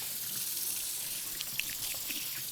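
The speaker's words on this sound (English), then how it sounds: "I'm going to rinse my hands off real quick." Tap water runs steadily as hands are rinsed under it at a kitchen sink, a soft continuous splashing with a few faint drips.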